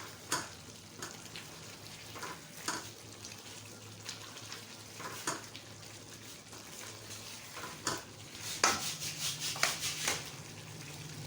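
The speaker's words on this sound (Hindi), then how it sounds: "फिलहाल इसको भूनें अच्छी तरह से।" Chicken masala gravy sizzling in a pan while being stirred, with quiet frying hiss and repeated scraping strokes of a spoon against the pan, close and fairly faint, growing busier near the end, with no talk.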